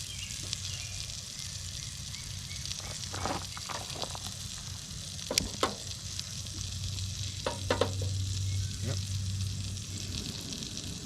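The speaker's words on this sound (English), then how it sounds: "Hard to hear it over the frying pan." Chicken sizzles steadily in bacon grease in a hot cast iron pan while truck camping, a soft continuous crackle with occasional sharper pops and someone speaking over it.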